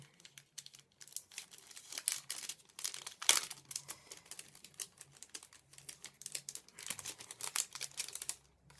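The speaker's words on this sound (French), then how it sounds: "Un petit sachet comme ça avec des petites étiquettes. Donc, je vais l'ouvrir." A small paper gift sachet with little labels being opened, giving close, quiet crinkling and rustling of paper with soft tearing in irregular bursts, alone without talk.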